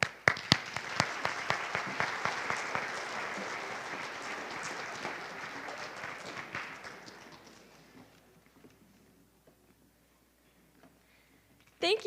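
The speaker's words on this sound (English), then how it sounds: "please give them a round of applause" Applause at a 6th grade recognition ceremony as the student council sponsors come forward, a dense crowd clapping for about eight seconds before fading into quiet room sound, with a few voices near the end.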